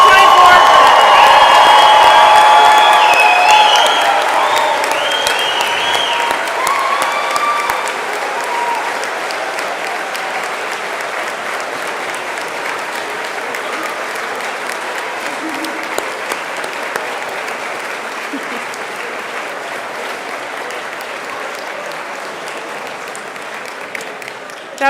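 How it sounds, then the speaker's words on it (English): A large audience at a college graduation ceremony claps loudly, then the applause gradually thins and fades to a softer, scattered patter with a few whoops. "That was the best applause we've had in a while."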